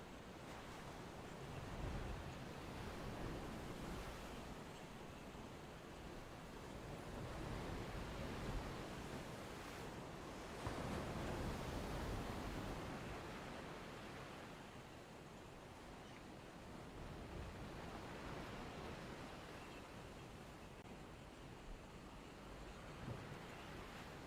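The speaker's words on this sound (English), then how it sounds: "You can hear the ocean in the background." Ocean surf rolls steadily at a waterhole, a continuous broad wash of breaking waves with gentle swells and some wind rumble, no voices.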